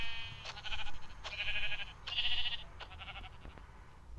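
Sheep bleating in Minecraft, several wavering bleats in quick succession, fairly close and clear against a quiet background.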